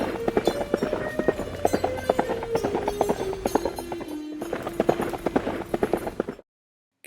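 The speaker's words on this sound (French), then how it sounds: "Un cavalier arrive en galopant." A galloping horse's hooves clip-clop in a quick, steady rhythm, close and loud over a low rumble, stopping abruptly into silence.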